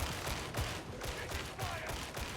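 Rapid bursts of Lasgun fire from a Kantrael MG 1a Infantry Lasgun in the video game Darktide, repeated shots in a sustained volley, close and loud over constant battle noise.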